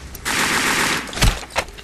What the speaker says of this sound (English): Also, the submachine gun gives away your position very easily.